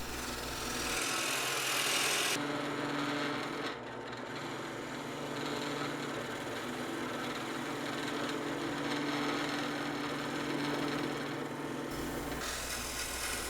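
A spindle gouge cuts curves on a wooden screw spinning on a wood lathe, a continuous rasping, scraping hiss over a low motor hum, steady and fairly quiet throughout.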